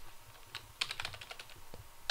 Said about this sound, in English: you just simply have to type in